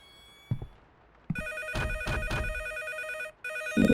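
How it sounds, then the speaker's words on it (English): Telephone in a horror video game rings with a bright electronic trill in repeated bursts, loud and close, preceded by a couple of soft thuds. "The phone is ringing."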